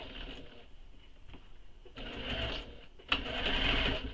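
Sewing machine stitching through thick, bulky layers of fabric for a handmade bag, its motor running in steady bursts that pause, then restart louder with a sharp clunk near the end.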